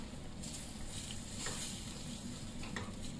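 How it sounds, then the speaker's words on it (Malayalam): Ground masala paste for a hotel-style vegetable kurma frying in a pan, a steady even sizzle with soft stirring scrapes recurring throughout. "ഈ മസാല ഒന്ന് മൂത്ത് വരട്ടെ."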